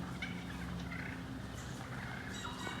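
Turkeys gobble in scattered bursts over a steady low background rumble, moderately close, with no talking.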